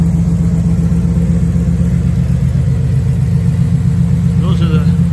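A car engine with an EFI system idles steadily and evenly, a loud, close, continuous low hum with a regular pulsing beat and no revving, heard on its own.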